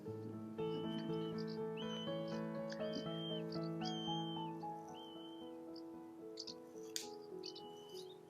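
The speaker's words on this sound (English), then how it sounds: "That noise there, buzzards" Buzzards call overhead on an organic farm, thin high whistles repeating several times across the stretch above a dense layer of steady tonal sound, with one sharper burst near the end.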